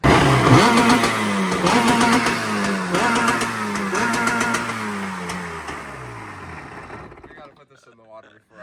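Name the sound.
motorcycle engine revving to the rev limiter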